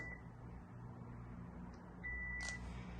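Cordless phone handset keypad beeping during entry of a factory reset code, two short high tones a couple of seconds apart, faint and near, over a low steady room hum.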